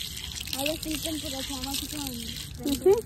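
Water runs steadily from a tap while feet are washed outdoors, a soft continuous gush heard under a voice talking close by.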